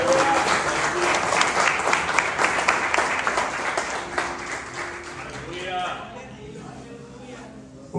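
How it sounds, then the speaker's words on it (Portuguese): A church congregation applauding together during a Portuguese-language worship service, steady dense clapping that fills the room before thinning out toward the end, with a voice speaking over it. "Você pode aplaudir o Senhor Jesus?"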